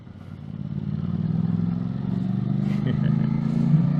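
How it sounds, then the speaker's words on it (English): An Aprilia RS660 parallel-twin motorcycle engine runs with a low, gruff drone that builds in the first half second and then holds steady, slightly rough and clattery, close by. "This parallel twin has grunts low down"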